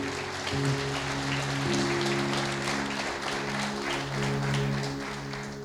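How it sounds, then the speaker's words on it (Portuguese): Church congregation applauding, with steady dense clapping that runs under sustained organ or keyboard tones throughout. "Pode aplaudir"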